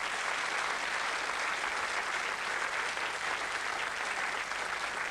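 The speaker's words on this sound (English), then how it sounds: "Give them a round of applause." Steady, dense applause from a studio audience on the 1987 Blockbusters game show, a continuous wash of clapping at even loudness with no talk over it.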